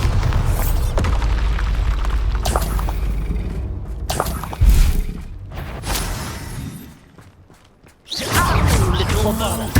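Bombarda spell blasts in the Hogwarts Legacy video game: loud booming impacts and whooshes within a dense stretch of combat noise, with a sharp burst near the middle and another surge of roaring noise near the end.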